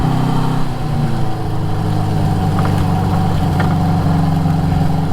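A 1973 Honda CB350 Four motorcycle engine runs steadily at close range, its smooth multi-cylinder hum droning without pause through the whole stretch, with a few slight shifts in pitch.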